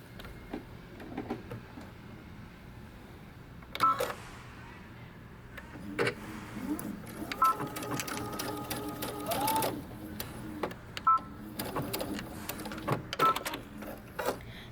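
Sewing machine stitching across the bottom of a dress placket, with bursts of rapid mechanical whirring and pauses between runs, close and moderately loud, with light handling clicks.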